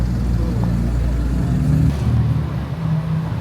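Supercars including a McLaren and a Lamborghini Huracan drive along a Dubai street, making a loud, steady engine rumble with a swell of revving and a passing car, heard close by and without talk.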